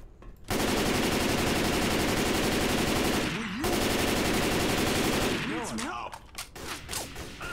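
Dense, continuous automatic gunfire from the video game Left 4 Dead roars loudly for several seconds, with sweeping game effects and brief breaks near the end.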